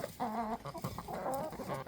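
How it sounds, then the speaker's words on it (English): A rooster and hens cluck loudly nearby in a series of throaty, tonal calls, the birds crowding possessively around their food. "he's probably like the alpha chicken."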